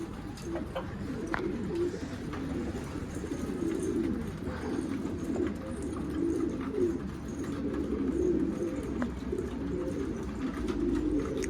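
Pigeons coo in low, throaty rolling calls, repeating continuously nearby with soft rustling in the background.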